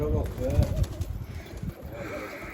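Pigeons coo close by in low, throaty pulses, repeating in short phrases, with a faint steady high tone running underneath.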